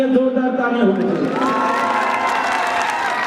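A concert crowd at a show cheers and whoops loudly for the police, a dense, close roar of voices with scattered clapping.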